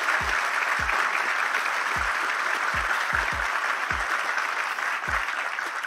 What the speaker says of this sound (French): Mais comme ils kiffent ça quand il se fait applaudir.